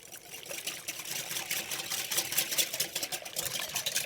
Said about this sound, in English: And in with the water.